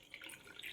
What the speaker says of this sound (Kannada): ಈಗ ಹುಣಸೆ ನೀರು ಹಾಕಿದ್ದೀವಿ